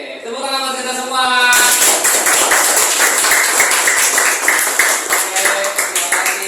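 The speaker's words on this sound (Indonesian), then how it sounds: "Oke, tepuk tangan buat kita semua." A mathematics class claps hands in a lively, irregular burst that starts after a brief voiced opening, continuing as a dense patter with voices mixed in.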